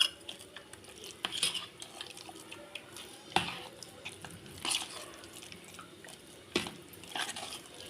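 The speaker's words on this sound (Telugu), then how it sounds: "నానినది వేసుకుంటూ కలపాలి." Soaked sabudana is stirred into hot water in a pot, giving soft wet sloshing and scattered clinks of a spoon against the vessel, quiet and close with no talking.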